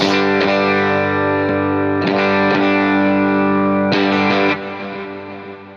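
Distorted electric guitar chords through a Tube Screamer clone overdrive pedal, a few strummed hits left ringing, loud and thick with sustain.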